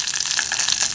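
Green chilies, a dried red chili and curry leaves frying in hot oil for tomato rasam, a steady close crackling sizzle with no talk.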